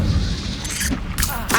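Incendio fire spell cast in Hogwarts Legacy, a loud dense roaring whoosh of flame with a couple of sharper bursts near the end, filling the whole short stretch.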